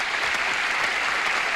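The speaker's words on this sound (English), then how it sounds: "If you promise to applaud briskly for Carl Hansen and Gloria Mallory." A game-show studio audience from 1977 breaks into brisk, dense applause, a short continuous burst of clapping from a full room.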